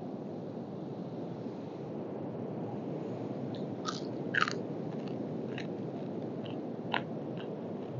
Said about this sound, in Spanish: Si no fuera por el poquito de arena que estoy masticando.